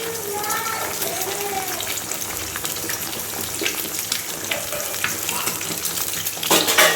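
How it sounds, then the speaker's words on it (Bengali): Eggs poured into oil left over from frying potatoes crackle and sizzle steadily up close, with stirring scrapes and a brief watery gush near the end. Faint voices are heard in the background. "তো এখন এই যে তেলের মধ্যে এই যে আলুগুলো ভেজে তুলে নিয়েছি আর এখানে এখন এই যে ডিমগুলো দিয়ে দেবো"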